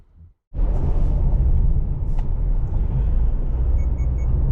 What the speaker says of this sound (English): we are driving this 2024 Subaru Crosstrek Sport